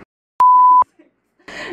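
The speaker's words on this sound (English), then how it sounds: "beep." A single steady censor bleep, loud and clean, lasting under half a second and cutting over casual chat, followed by a short pause before people start talking again.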